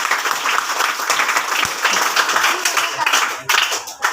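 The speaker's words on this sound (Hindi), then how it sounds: "और बेटा ताली बजा दो।" Children at a school patriotic program clap their hands together in a lively burst of applause, steady and close throughout with a faint murmur of voices beneath.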